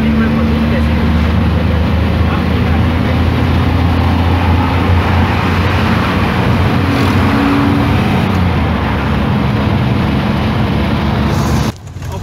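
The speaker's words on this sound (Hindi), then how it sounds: "11 बजे एक ट्रक ने कितनी ट्रैफिक जाम कर दी है।" Cars and trucks jammed in the market street of Bairkund bazaar near Mansehra, making a loud, steady engine and road roar that stays close and continuous before a brief dip at the very end.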